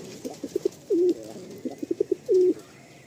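Madrasi pigeons coo in two repeated phrases, each a few short soft notes followed by a longer drawn-out coo, close and clear over a quiet background.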